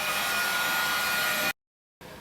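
A heat gun warming a snowboard before waxing blows a steady, loud airy whoosh. It cuts out briefly to silence, then starts again.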